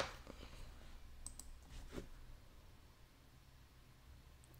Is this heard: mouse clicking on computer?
yes